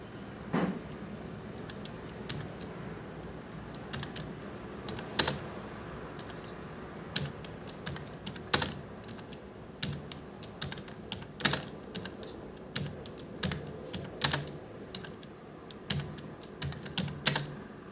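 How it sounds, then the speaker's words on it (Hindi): Steady typing on a computer keyboard while entering Hindi text, with irregular clusters of crisp key clicks and occasional louder taps, close and alone with no talk. "बोलते जाना मन मन में और टाइप करते चले जाना"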